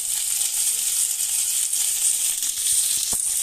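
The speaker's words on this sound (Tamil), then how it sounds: "2 மிளகாய், கொஞ்சமாக கருவேப்பிலை, கொஞ்சமாக பெருங்காயம் ஆட் பண்ணிக்கலாம்." Shallots, green chillies, curry leaves and asafoetida fry in hot oil in a pan for a Tamil buttermilk curry, giving a steady, loud, close sizzle throughout with a few faint clicks near the end.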